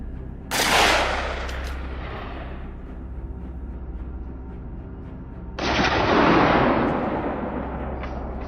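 Two loud rifle shots ring out several seconds apart while hunting wild boar outdoors. Each sharp crack is followed by a long echoing rumble that fades slowly across the hills.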